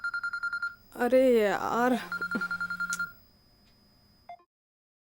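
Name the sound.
mobile phone ringing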